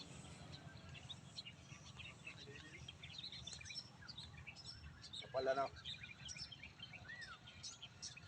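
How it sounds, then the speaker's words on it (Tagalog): Faint bird chirps and tweets scattered over a steady outdoor hum in Laur, Nueva Ecija, Philippines, with one slightly louder call near the end; quiet and distant. "Ibon lang naririnig ko ah."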